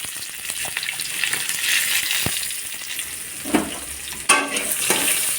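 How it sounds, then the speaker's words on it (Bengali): Onion frying in oil with five-spice and dried red chilli for a spinach and prawn dish, giving a steady close sizzling hiss with a few light stirring clicks and scrapes. "দিয়ে পেঁয়াজটা ভেজে ভেজে লাল লাল করে দিতে হবে।"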